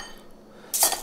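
Cooked meat tipped into a bowl for draining, a brief clatter of dish and utensil near the end after a quiet start, close up and short with no talk.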